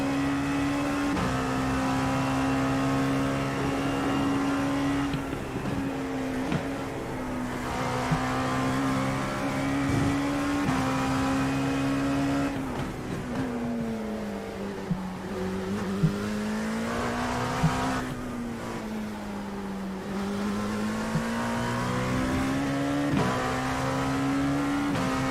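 IMSA Sprint Series race cars lapping the Sebring circuit, a continuous loud engine drone that rises and falls in pitch with gear changes and acceleration, steady and close throughout.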